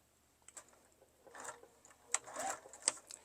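A sewing machine stitches the bottom of a tote bag shut in short, quiet bursts of rapid mechanical clatter, separated by pauses, close by.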